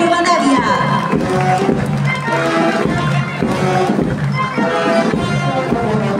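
Outdoor crowd applauding during a parade for the 136th anniversary of the city of Río Primero, with sustained dense clapping and cheering heard continuously over a busy, loud background.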